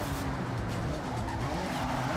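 Car tires squeal and skid through a Scandinavian flick in the racing game Forza Horizon, a continuous loud screech over engine noise with no voices.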